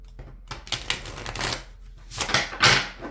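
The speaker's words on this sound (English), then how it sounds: "Let's get your tarot cards." A deck of tarot cards is shuffled close by, a run of riffling, flapping bursts with a louder riffle near the end, heard alone with no speech.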